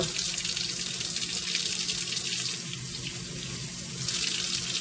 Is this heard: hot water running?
yes